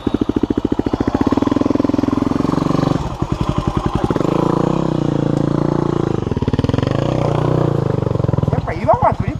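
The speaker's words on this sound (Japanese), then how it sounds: "そしたらエンジンかけてもらって、" A Yamaha WR250R motorcycle engine runs on a rocky mountain trail, its loud rapid chugging revving and dropping, briefly cutting out and picking up again, while people talk nearby.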